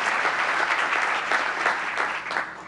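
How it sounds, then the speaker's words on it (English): An audience applauds at a mayor's ambassador forum, a steady wash of clapping that holds strong for about two seconds before thinning slightly toward the end. "I think right now would be a good time to give John a nice big round of applause for efforts."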